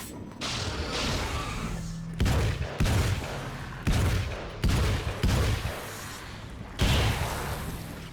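A drum-magazine gun in Alan Wake's American Nightmare fires about seven heavy booming shots in a loose, uneven rhythm, each sharp and loud with a short decay.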